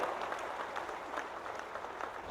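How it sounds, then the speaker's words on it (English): Audience applause at an event during South African Deputy President Cyril Ramaphosa's visit to South Sudan, a steady spread of clapping hands held at an even level for a couple of seconds with no voices over it. "Let's give them a big round of applause for having come here."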